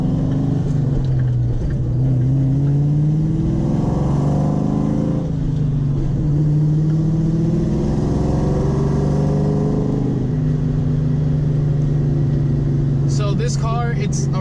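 A 1999-2004 manual Ford Mustang GT V8 with headers and aftermarket exhaust revs and drones through gear changes, close and booming, with a brief voice near the end.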